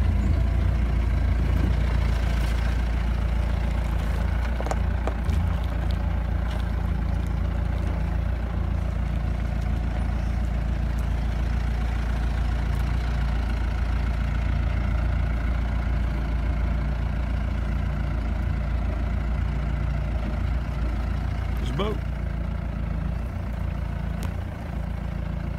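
Mahindra Roxor LE engine idling low at about 850 RPM on a steep hill, a steady deep rumbling drone held close and constant throughout, no talk.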